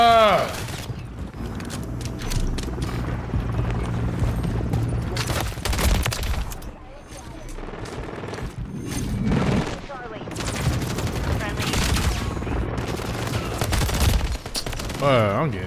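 Gunfire in Modern Warfare 3, repeated sharp shots and bursts scattered through a busy battle mix, with voice chatter and game sounds throughout.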